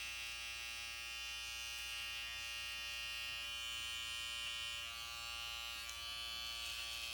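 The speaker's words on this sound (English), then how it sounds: "we're going to turn the clipper around and we're going to shave to it" Electric hair clipper buzzing steadily and close up for the whole stretch as it shaves a neckline straight during a classic side part haircut, a continuous high whine with no pauses and no talking.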